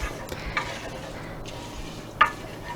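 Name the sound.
stirring rice pudding in a pot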